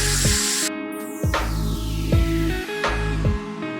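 Fried pointed gourd pieces dropped into a pan of sizzling fried spices: a loud spray-like hiss bursts out, followed by repeated scraping thuds of a spatula tossing the pieces in a rhythmic pattern.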